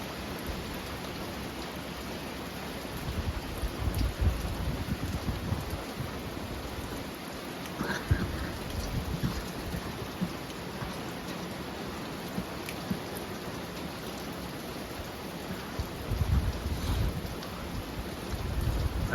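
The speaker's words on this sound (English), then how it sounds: "Just more steady rain right now." Steady rain falls outdoors under a dark sky, a continuous even hiss of drops on surfaces with occasional louder patters, unbroken for the whole stretch and no talking.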